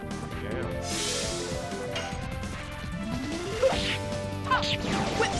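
Whip smack attack in The Legend of Dragoon, heard as sharp crashing whip strikes and swishes over game music, with a couple of distinct hits near the end.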